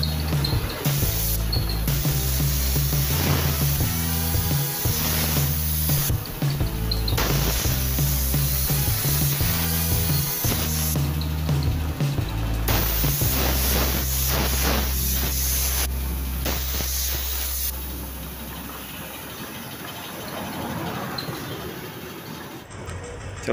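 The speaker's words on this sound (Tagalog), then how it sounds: "Pagkatapos i-spray lang natin to ng 2 full coats" Steady hissing spray of clear coat on a Honda PCX 160 mag wheel painted candy red, running in long bursts broken by short pauses, close and fairly loud, with a low rumble underneath.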